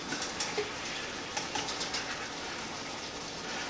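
A shepherd's pie filling stirred in a pan, giving a soft sizzle with light scraping and clinks of the spoon, steady and close, with no talking.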